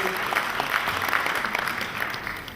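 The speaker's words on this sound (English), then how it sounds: "A round of applause, please." Audience at a banking and finance conference gives a steady round of applause, moderately loud with many overlapping claps heard at some distance in a large hall.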